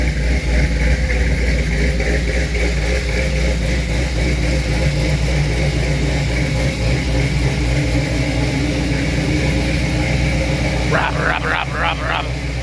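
A small-block Chevy engine idles steadily in a modified 1931 hot rod, a loud, continuous low rumble that holds throughout, with a brief squeaky chirp near the end.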